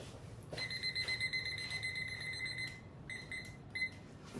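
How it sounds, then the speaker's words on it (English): A kitchen timer set for 20 minutes gives a run of rapid high electronic beeps that stops and starts in short bursts, fairly quiet, over a low background hum. "So I'm going to get a timer right here."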